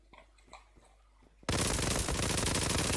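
Automatic gunfire erupts in a clan-match shooter video game, with quiet voices first and then a sudden, loud, sustained burst of rapid shots filling the second half.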